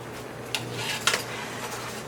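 A few light clinks of a utensil against a pan while a cornstarch slurry is stirred into vegan orange chicken sauce, close, with quiet gaps between.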